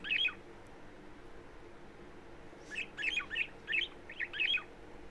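Red-vented bulbul calling: one bright chirp at the start, then a lively run of about six sharp, clear notes close together a few seconds later, moderately loud over a quiet outdoor background.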